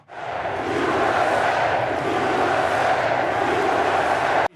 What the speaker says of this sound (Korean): 환호가 쏟아집니다